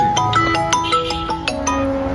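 A phone ringtone plays a bright, rapid melodic pattern of short repeated tones, loud and close, with no voices over it.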